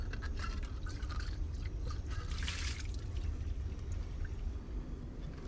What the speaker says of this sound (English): I like to rinse all my glassware with distilled water.